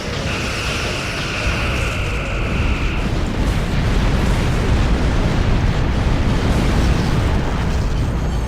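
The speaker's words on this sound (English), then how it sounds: "they can in fact fire off multiple torpedoes at one" Star Trek Online TOS-era starships firing volleys of torpedoes in space combat, a dense continuous rumble of explosive booms and bursts with a brief high whine at the start, no talking.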